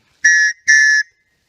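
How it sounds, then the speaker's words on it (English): A Tops Knife survival whistle blown twice in quick succession, each blast a shrill, steady, loud tone lasting about a third of a second, with a brief gap between them and silence after. "a Tops Knife whistle"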